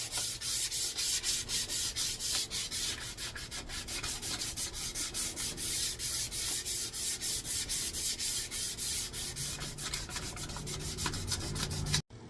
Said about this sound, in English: now that I have it all sanded down, this is going to be my axe